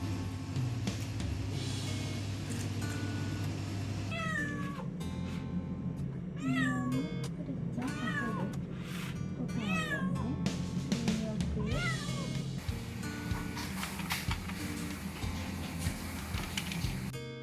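A former stray female cat in heat yowls repeatedly indoors, a series of loud, drawn-out meows and cries rising over a steady low background hum throughout.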